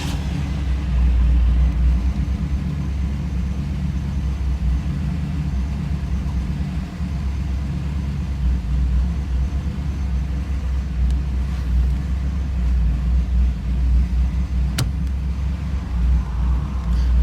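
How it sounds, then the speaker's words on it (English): A car engine started cold on a chilly morning runs at a steady, rumbling idle throughout, a continuous low drone close by with no talking. "I'm gonna do a cold start right now."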